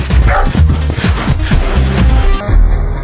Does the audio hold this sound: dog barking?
yes